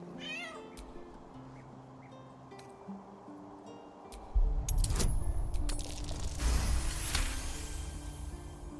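A cat meows a few times early on, fairly close, over a low game-style background that swells later with louder rumbling effects.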